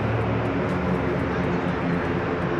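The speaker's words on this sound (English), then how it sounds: "Also, we have an ATR. Looks like it's heading over to runway 27." An ATR turboprop airplane taxiing toward runway 27 at San Diego airport, a steady broad engine roar heard from a distance outdoors.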